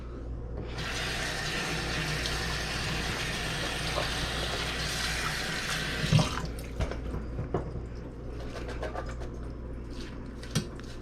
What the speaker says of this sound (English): throw this in our colander, strainer, whatever you want to call this doohickey, and give it a quick rinse.